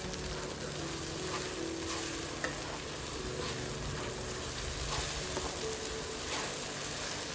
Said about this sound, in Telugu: దీంట్లో పచ్చివాసన అంతా పోయేదాకా మనం బాగా ఫ్రై చేసుకుందాం.